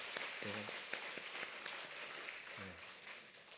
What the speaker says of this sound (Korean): 우리 두 분 일어나시면 큰 박수로 환영하겠습니다.